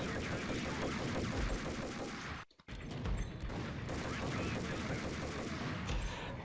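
Rapid, dense gunfire from the video game Max Payne, a loud sustained barrage of automatic shots with a brief gap partway through, then the shooting resumes just as heavily.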